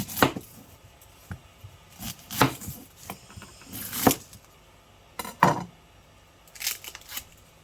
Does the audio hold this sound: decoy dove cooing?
no